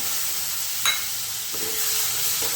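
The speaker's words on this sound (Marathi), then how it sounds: "चला आता यामध्ये जो मुगडाळ आहे ते थोडेसे परतून घेते याच्यामध्ये तेला" Moong dal sautéing in a little oil in a pan, a steady broadband sizzle with a brief clink or stir scrape near the start, no voices.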